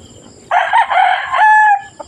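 Rooster crowing in a backyard chicken coop, one loud close cock-a-doodle-doo lasting over a second with a drawn-out final note, against quiet surroundings and a brief cluck after.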